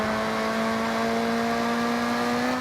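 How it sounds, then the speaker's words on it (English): A Ford car races fast in a video game, its engine giving a steady, loud, unbroken drone with a sustained tone and no voices. "I like this car because of how fast it goes."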